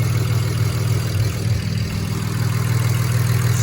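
A BMW 335i fitted with new turbos idles steadily up close, a deep, even rumble with a slight dip in the middle and no rattle, with no voices.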